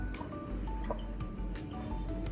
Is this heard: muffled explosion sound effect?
no